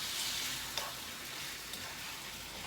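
Chicken, onion and ginger fry in a pan with a bright, even sizzle, a close and constant hiss broken by a couple of faint clicks, no talking.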